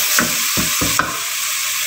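Garlic and ginger paste fries in about two tablespoons of oil in a pan, giving a steady close sizzle with a few soft stirring scrapes through it.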